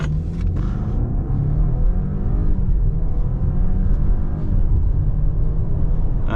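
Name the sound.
car accelerating to 100 km/h for a braking test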